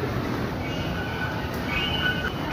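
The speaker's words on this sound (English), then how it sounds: "Dito sa Taipei. MRT train station pa siya." A Taipei MRT metro train at Banqiao Station gives a steady, moderately loud rumble and rush of rail noise, with faint thin squeals of wheels on track rising near the end. No one talks.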